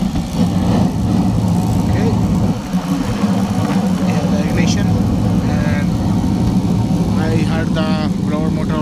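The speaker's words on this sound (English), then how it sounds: "The blower motor already kicked in" A blower motor runs in a York rooftop HVAC unit with a no-heat fault, giving a loud, steady mechanical drone throughout, with a brief voice near the end.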